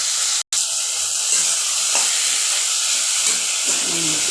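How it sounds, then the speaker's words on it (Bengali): Boiled banana flower being stir-fried in a pan, a steady close sizzle and hiss with scraping stirring strokes throughout, broken by one brief dropout near the start. "ওই মোচাটা দিয়ে দেব। দিয়ে ভালো করে নেড়ে চেড়ে সুন্দর করে"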